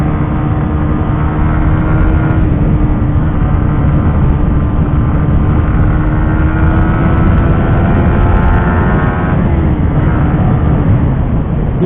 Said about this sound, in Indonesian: Gila, motornya nggak bisa pelan